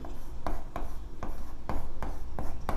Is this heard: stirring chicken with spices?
no